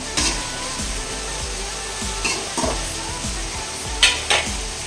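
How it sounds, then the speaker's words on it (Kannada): Eggplant frying in hot oil for vangi bath, with a steady sizzle under repeated scraping and clinking strokes of a spatula against the pan, a few sharper metallic knocks near the end. "ಎಣ್ಣೆಲೇ ಬೇಯುತ್ತೆ ಬದನೆಕಾಯಿ, ಬೇಗನೆ ಬೆಂದೋಗ್ಬಿಡುತ್ತೆ"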